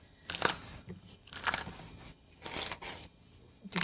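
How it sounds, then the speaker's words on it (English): Dried loofah crunched in the hands, with several bursts of crackling, popping crunches in a slow irregular rhythm, close and fairly quiet with pauses between squeezes. "you want to try to get this nice crunching sound going on. With your loofah, you want to crunch it until it pops."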